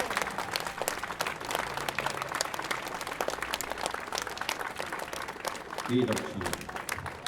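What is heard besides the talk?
audience applause for the master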